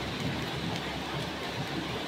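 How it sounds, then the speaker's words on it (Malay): Steady rainfall during the rainy season hisses evenly at a low, constant level, a soft continuous patter with no distinct drops or voices over it. "Kalau dekat sini memang hujan"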